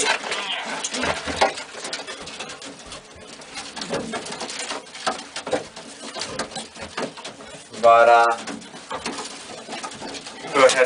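White homing pigeons coo in a flying loft, soft repeated calls close by with a voice speaking over and between them.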